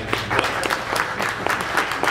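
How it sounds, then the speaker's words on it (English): An audience at a Home Brew Robotics Club meeting claps in a steady, dense round of applause, moderately loud and close, continuing throughout without a break. "it's not really worth the applause"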